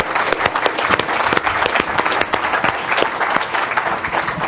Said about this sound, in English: Oh, we do want to applaud you.